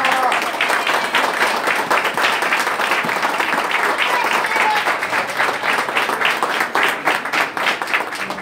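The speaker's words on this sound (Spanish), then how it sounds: "yo les pido un fuerte aplauso para toda la gente de La Solidaria" Audience at a community cinema event giving loud, sustained applause, a dense field of clapping from a crowd that holds steady throughout and thins slightly at the end.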